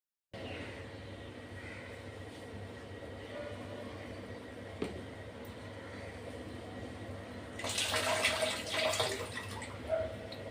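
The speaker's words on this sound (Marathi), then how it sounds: "दोन 3 पाणी स्वच्छ धुवून घेतले." Soaked chickpeas are washed in water, with a faint, steady wash of water that swells into louder splashing and sloshing toward the end.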